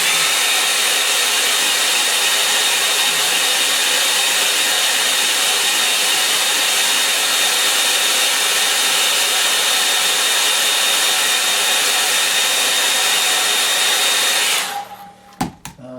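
A hair dryer blows on a painting to dry the paint, a loud continuous roaring whoosh held steady for many seconds before cutting off abruptly, with a few faint clicks after.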